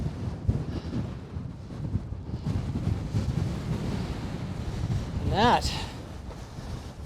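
Strong wind buffets the microphone in a desert valley at Valley of the Gods, Utah, a constant low roar with gusts, and a voice speaks briefly over it.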